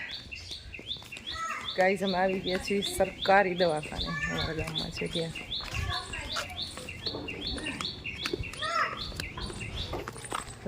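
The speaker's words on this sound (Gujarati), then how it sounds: "કેવા મસ્ત મજાના પક્ષીઓ બોલે છે." Birds chirp and tweet steadily in the background while a person talks over them nearby.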